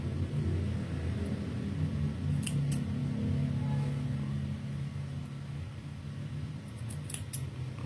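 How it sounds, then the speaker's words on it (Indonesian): Scissors snip into the 1 cm seam allowance of a fabric collar with a few brief, crisp clicks, heard faintly over a steady low hum in a quiet room. "jadi saya akan gunting 1 cm"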